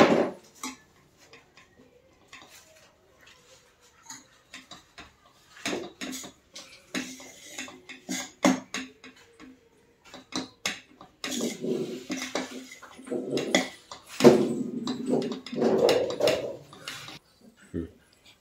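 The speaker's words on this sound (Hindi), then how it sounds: "ये बेसन हम इसे स्लो हीट पे धीरे धीरे भून रहे हैं, तो ये घी छोड़ता जा रहा है।" A spoon scrapes and clinks against a pan as gram flour (besan) is slowly roasted in ghee over low heat, with irregular stirring taps and scrapes under a person talking.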